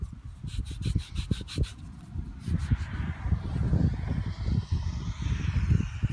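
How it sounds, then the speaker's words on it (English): A metal-detected colonial copper coin rubbed clean against denim jeans outdoors, producing steady scratchy rubbing and scuffing strokes close up, with quick repeated swipes early and continuous friction noise after. "Let me rub it off on my jeans here."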